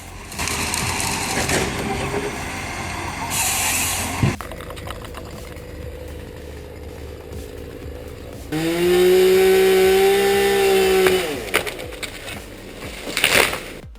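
Logging harvester with an EGS 706 head cutting long stems in heavy-duty forestry work: rough buzzing saw and hydraulic machine noise that changes in sections, then a loud steady whining drone before a few sharp clatters.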